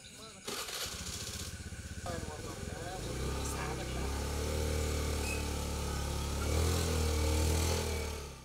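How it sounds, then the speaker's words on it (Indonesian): A motorcycle engine starts up nearby and settles into a steady, loud running drone that swells slightly toward the end, with voices talking over it. "Weh, motor di sini."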